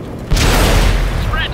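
A tank shell strikes the spaced armor of an IS-7 tank and bounces off in the World of Tanks video game on PS4, one loud, sudden metallic boom that rings briefly and then fades.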